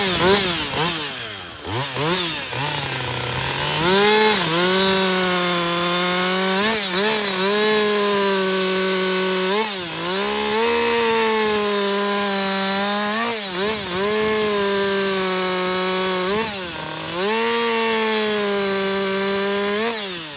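A Husqvarna 562XP chainsaw held at fast idle runs alone, close and loud, with a steady high engine note that dips and recovers several times over the stretch.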